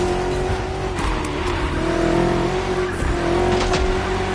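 BMW M CS car driven in a PS4 racing game, a loud steady engine drone with shifting pitch as it accelerates, plus faint tyre noise, continuous and up close.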